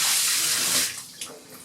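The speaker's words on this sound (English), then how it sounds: "Let me turn this water off so you can" Water runs steadily from a tap during a plant spray-down, a continuous hissing gush that cuts off partway through, leaving a few faint clicks and drips.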